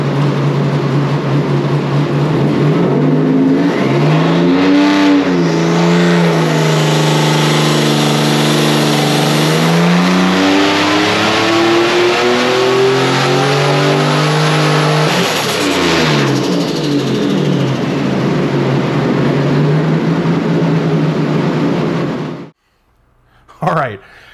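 A turbocharged 4.3L LV3 V6 roars on a dyno at about 14 PSI boost, a loud sustained pull with engine pitch climbing and shifting for some twenty seconds before cutting off abruptly, followed by a brief mechanical clatter.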